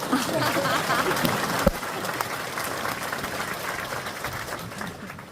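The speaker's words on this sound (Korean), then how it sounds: "박수를 치시라." Korean church congregation clapping during a thanksgiving service installing a new senior pastor, a steady wash of many hands with a few sharp louder claps and faint crowd murmur, gradually softening.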